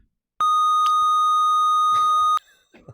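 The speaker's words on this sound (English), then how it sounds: "if we want to say something really bad, we can use the peep" A loud, pure electronic soundboard beep, used as a censor bleep, holds steadily for about two seconds, then cuts off abruptly, followed by faint murmuring.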